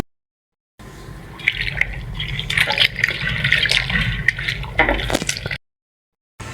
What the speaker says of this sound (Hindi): अब ये दापड़े पर पानी भरते हैं, पानी भर कर दूसरे कपड़े भी धो लेते हैं।